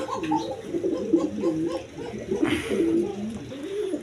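High-flying pigeons for sale coo continuously close by, with overlapping rolling, throaty burbles that rise and fall through the whole stretch.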